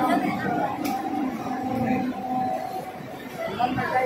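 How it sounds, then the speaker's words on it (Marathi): Busy railway platform at Dadar station as a Karjat fast local stands alongside, steady crowd chatter and babble filling the space with a low rumbling background, loud and continuous throughout. "हे प्लॅटफॉर्मवर गाडी आली आहे. दोन्ही साईडनी प्लॅटफॉर्म आहे. ही आपली आताच आली आहे कर्जत फास्ट ट्रेन लोकल आहे."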